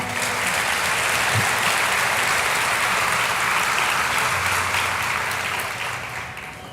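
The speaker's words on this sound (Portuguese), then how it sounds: "Aplauda o Senhor." A church congregation applauds during a Sunday worship service, a loud, continuous roar of many hands clapping that holds steady and then begins to thin toward the end.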